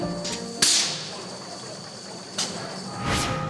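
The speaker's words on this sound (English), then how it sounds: "Did you hear the sound the bottling machine made?" Mechanical bottling sounds: sharp hissing bursts and clanks at irregular intervals over a constant whirring hum, fairly close.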